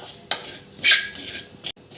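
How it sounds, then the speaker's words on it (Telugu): Cumin, coriander and poppy seeds dry-fry without oil in a pan over low heat, with a few close scrapes and clinks of a stirring spoon over a faint, soft crackle. "ఆయిల్ ఏమీ వేయకుండా ఫ్రై చేసుకోవాలి."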